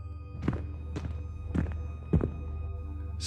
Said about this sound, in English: The footsteps reached the hallway.